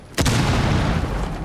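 A breaching charge detonates in the Rainbow Six Siege video game, one sudden loud boom followed by a long rumbling, crackling decay that fills the rest of the moment.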